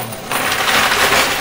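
Coins and casino chips clatter down inside a high-limit coin pusher arcade machine, a dense continuous rattling shower of metal and plastic pieces landing close by with no talk.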